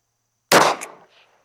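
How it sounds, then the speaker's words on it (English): A single sharp shot from a Walther P38 pistol firing PMC Bronze 115 grain rounds cracks loud and close outdoors after a moment of silence, followed by a short decaying echo. "this time we got 8 rounds of PMC Bronze loaded up, 115 grain. Let's shoot a group at the middle left"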